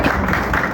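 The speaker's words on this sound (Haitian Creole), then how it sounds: "demandez qu'on applaudit le ministre PPM Didier Vizemé" An audience at a mayor's public speech claps for a minister, a short burst of dense applause heard close and loud, with no speech over it.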